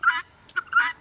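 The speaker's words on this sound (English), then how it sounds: "Whenever the chickens and guinea hens smell this, they know it's lunchtime." Chickens and guinea hens give a few quick, harsh, gobbling calls close by, three short bursts within a second against a quiet yard.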